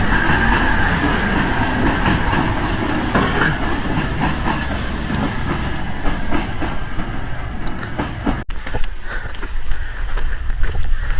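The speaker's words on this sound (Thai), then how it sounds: "รถไฟมาพอดี" A train rumbles past in Edinburgh with a steady, loud broadband roar and faint rhythmic clatter of wheels on rails throughout, close by.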